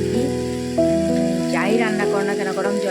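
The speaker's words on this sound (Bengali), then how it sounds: "এই পর্যায়ে আমি জল দিয়ে দেবো তাও গরম জল কিন্তু ঠান্ডা জল না গরম জল দিয়ে দেবো" Hot water poured into hot frying oil and spices in a pan, a loud bubbling, hissing sizzle that bursts up partway through, with musical tones running underneath.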